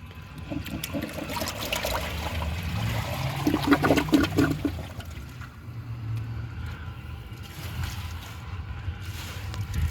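A 1987 Kilgore toilet is plunged and flushed: wet sloshing and gurgling water rushes swell in the middle, then ease into a quieter trickle and drain.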